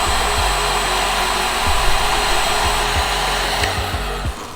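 A heat gun blows steadily as it shrinks heat shrink tubing over soldered wire joints, a constant loud whirring hiss with slight dips in pitch, heard alone without talk.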